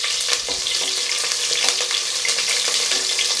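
Small onions and a green chili sauté in hot oil, a loud close crackling sizzle broken by quick stirring clicks and spatters.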